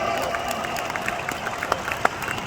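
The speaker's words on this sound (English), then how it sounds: "Can we all give boss a round of applause today?" An audience gives a round of applause at a seminar in Kuala Lumpur, a thinner spread of individual claps popping over a steady background murmur, with a few sharp louder hand strikes.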